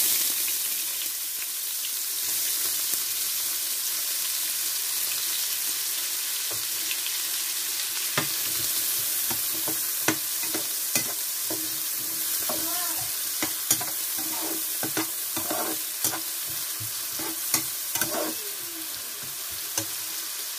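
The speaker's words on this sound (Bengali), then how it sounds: "এই তেলের মধ্যে পেঁয়াজ দিয়ে দিব" Onions frying in hot oil for a rohu fish bhuna, a loud, constant sizzle with frequent sharp spatula clicks and scrapes against the pan throughout, no voices.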